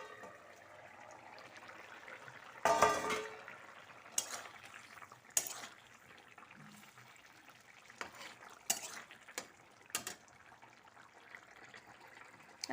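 Lid lifted off a pot of simmering fish curry with potatoes, giving a close metallic clank and scrape, followed by quieter clinks and bubbling in a kitchen.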